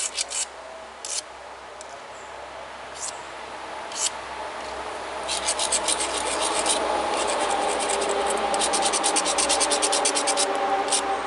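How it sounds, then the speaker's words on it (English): Tiger chert flake tip being ground against sandstone while shaping a bird point: a close, steady rasping rub that starts as short separate strokes, then becomes continuous, louder scraping. "I'm kind of grinding the tip off just a little bit because there's a downward hook"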